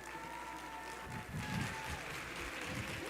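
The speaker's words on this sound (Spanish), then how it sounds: "Recibámoslo con un fuerte aplauso." An audience breaks into applause to welcome a speaker at a reading-mediators conference, the clapping swelling from a quiet murmur into a steady, moderately distant burst of many hands.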